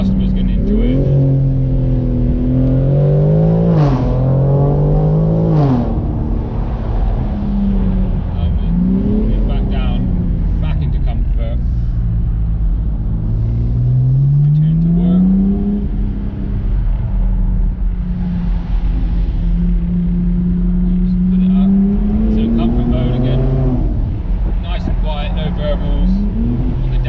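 A BMW M4 with a titanium exhaust revs repeatedly with rising and falling pitch, a deep exhaust rumble and occasional sharp crackling pops, loud and near throughout.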